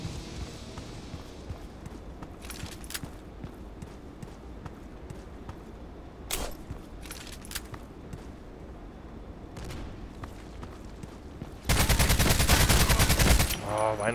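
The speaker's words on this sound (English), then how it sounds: "The other guy shooting at me, of course." Enemy gunfire in a sniper shooting game, scattered sharp shots over a steady background, ending in a loud sustained burst of rapid fire near the close.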